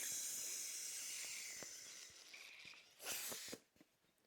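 Air hisses through the popping valve of a Henbrandt inflatable unicorn, a steady close hiss that fades, then swells in a short loud burst before dropping away.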